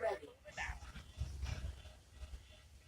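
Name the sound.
attack dogs deployed in Command and Conquer: Rivals video game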